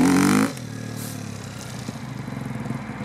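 A motorcycle accelerating out of a turn starts with a short loud roar, then drops to a lower engine note that builds into quick pulsing revs as it pulls away.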